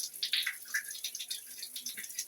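Water pouring from a rain shower head in a bathroom, a soft, continuous hiss and patter of falling spray, fairly faint and steady throughout.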